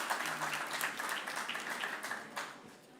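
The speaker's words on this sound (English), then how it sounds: "A round of applause for him" An audience at an Africa Day session applauds as a speaker from the African Development Bank Group walks to the podium, a fairly faint, steady spread of clapping that thins toward the end.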